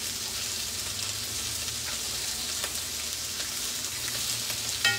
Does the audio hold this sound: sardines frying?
yes